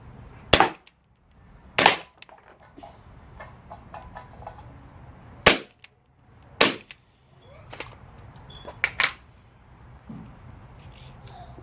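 A metal BB gun fires about five or six sharp, snappy shots at uneven intervals, close and loud, with quiet handling clicks and rustles in between.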